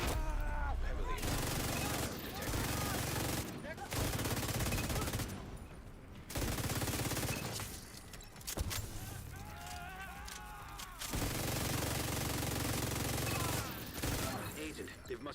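Dense, continuous bursts of gunfire and explosions, loud and chaotic, with brief pauses and faint voices mixed under the barrage.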